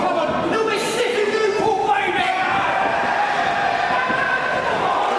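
A wrestling crowd in Newport cheers and roars continuously at moderate distance during a match, the noise steady and full throughout.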